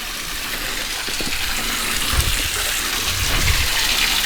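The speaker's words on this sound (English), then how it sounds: "I love the waterfall, but I just love all that, the boulders and stuff, and the water." Water from a small waterfall among boulders rushes and splashes steadily into a pool, a constant broadband roar of flowing water with no voices.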